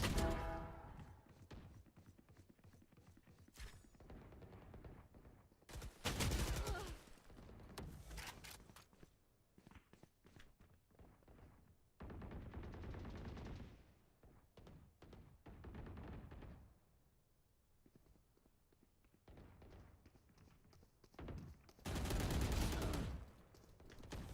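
Single gunshots fired in Call of Duty, quiet repeated cracks in irregular bursts with louder clusters, over low game ambience.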